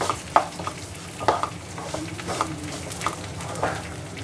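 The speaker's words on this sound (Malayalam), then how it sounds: "ഇനി നമുക്കൊരു 4-5 മിനിറ്റ് വരെ ഇതൊന്ന് നന്നായിട്ട് ഒന്ന് വറുത്തെടുക്കാം" Rice is fried in ghee and oil over a high flame for Malabar-style ghee rice, with a steady sizzle and a spoon scraping through the pan roughly once a second, close and alone.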